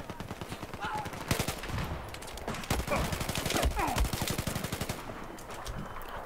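A weapon fires in Battlefield 4 in loud, rapid automatic bursts, dense cracks repeating almost without pause for several seconds.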